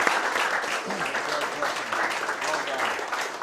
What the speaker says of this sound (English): Would you all join me in giving the senator a round of applause?